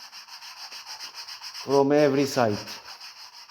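Steady, rhythmic strokes sanding a car bumper rub back and forth throughout, close by, with someone briefly speaking over them midway.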